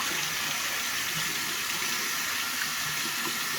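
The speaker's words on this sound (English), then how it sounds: "just rinse it really well with some water" Steady running water from a tap rinses antique brass and copper trade tokens, a loud continuous splashing gush close by with no talk.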